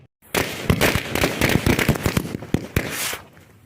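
A firecracker placed inside an egg bursts into a dense run of rapid crackling pops lasting a few seconds, loud and close, fading at the end with no voices.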